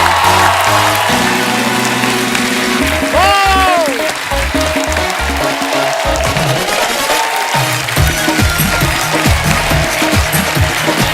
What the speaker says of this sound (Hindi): आप सबकी जोरदार तालियों के बीच बुलाते हैं इस शो के होस्ट को।